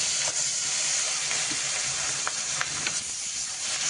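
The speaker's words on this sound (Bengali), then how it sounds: "এই মাছটা আগে ভাজতে দিয়েছি" A piece of fish fries in a very hot kadai, giving a loud, continuous hiss and sizzle with a few brief pops and crackles.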